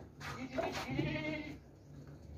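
A tall, healthy goat on a farm with nursing kids lets out one loud, wavering bleat up close, lasting about a second before fading into quiet background noise.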